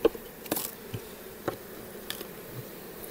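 Honeybees buzzing in an opened old Langstroth hive, a faint steady hum close by with a few soft knocks and clicks over it, no voices.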